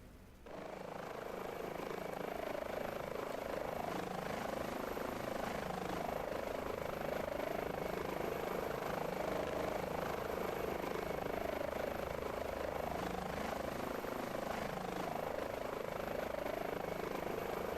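An Airbus H145 helicopter's engine and rotor in Microsoft Flight Simulator 2024 spool up quickly, then settle into a loud, steady turbine whine with a rhythmic rotor throb, running alone throughout.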